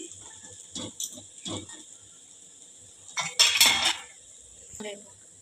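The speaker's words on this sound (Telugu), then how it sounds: "ఇలా ఫ్రై అయిపోయాక 2-3 టైమ్స్ మధ్యలో కలుపుతూ ఉండాలండి." Cauliflower fry is stirred in a pan on the stove, with a few scattered clinks and scrapes of the spoon against the metal, and one louder burst of stirring near the end.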